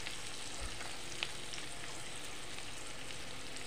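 Chopped onion and garlic frying in a pan, a steady close sizzle that continues throughout, with one faint clink and no talk.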